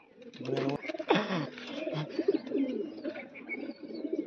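Tournament pigeons coo in low throaty rolls close by, mixed with rustling and a few sharp handling clicks, the cooing continuing steadily throughout.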